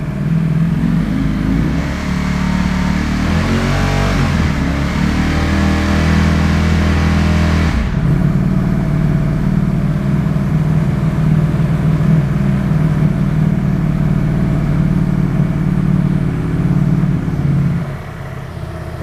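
A 2024 Ducati Streetfighter V4 with a full titanium Akrapovic exhaust revs in first gear around 5,000 RPM, giving a loud, close, sustained engine drone that rises briefly and then holds steady before dropping off.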